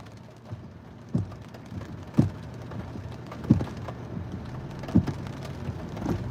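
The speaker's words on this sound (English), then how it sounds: "it's pouring down rain" Heavy rain pours down in a steady, dense hiss, broken every second or so by louder dull thumps of drops striking a nearby surface.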